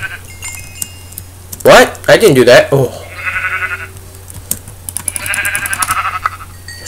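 Minecraft sheep bleating in short in-game calls, two bursts of synthetic bleats around a jangling chime, with someone talking and reacting just before.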